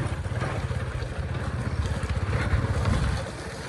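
Motorcycle ridden off-road through farm fields without using the clutch, its engine throbbing close and steady with a rapid pulsing beat that swells slightly before easing off.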